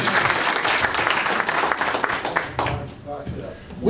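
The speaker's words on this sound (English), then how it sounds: "please give me a round of applause" An audience at a talk on gun rights and freedom of speech breaks into loud applause that holds steady, then fades out toward the end as a voice begins speaking.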